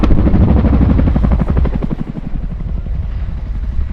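A Royal Air Force Chinook twin-rotor helicopter pitching steeply nose-up during an air display at RIAT 2023, loud and near with a heavy, fast, rhythmic rotor thump over a broad engine roar.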